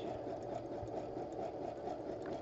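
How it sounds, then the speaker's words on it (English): A sewing machine runs in a steady, faint, continuous whir while it stitches fabric for a scrappy crumb quilt square. "I'm stitching, getting that stitched"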